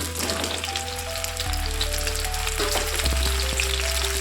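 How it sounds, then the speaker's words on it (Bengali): Cut mango pieces fry in a little oil in a pan, a dense loud crackling sizzle that intensifies partway through and continues steadily, close up and without talk. "সামান্য একটু তেল নিয়ে তাতে কেটে রাখা আমগুলো দিয়ে দেবো"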